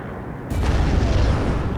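A Milan anti-tank missile striking a Bradley in the video game Warno: a heavy, booming impact bursts in suddenly and leaves a dense, rumbling roar that lingers.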